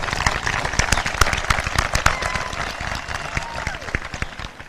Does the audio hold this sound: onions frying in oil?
no